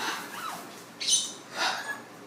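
Faint macaw and other parrot calls at a distance in a walk-in aviary: a short whistled note, then two brighter squawks, over a quiet airy background.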